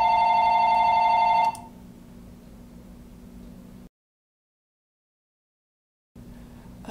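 A telephone rings with a loud, steady electronic tone for about a second and a half and then stops. A low background hum follows and briefly cuts to silence before returning.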